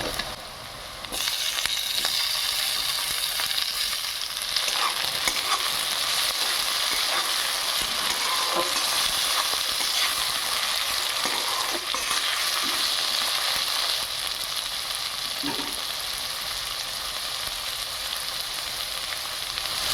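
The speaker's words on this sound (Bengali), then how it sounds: "এবার পেঁয়াজটা হালকা ভাজা হয়ে গেছে আমি এবার টমেটোটা দিয়ে দিচ্ছি" Chopped onion and tomato fry in a pan of oil for a mustard-based Kajol Gouri fish curry, a loud, close, continuous sizzle with faint stirring scrapes and no voices.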